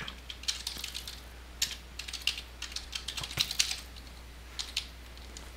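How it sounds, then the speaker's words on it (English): Rapid typing on a computer keyboard during a Minecraft game, with quick irregular bursts of key clicks and short pauses, close and moderately quiet over a steady low hum. "I couldn't even type fast enough."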